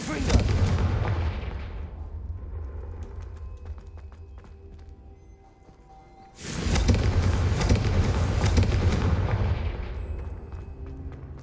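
Confringo fire-spell blasts in Hogwarts Legacy: loud, sustained booming rumble with a deep roar. It fades over several seconds, then another blast hits abruptly and rumbles on to the end.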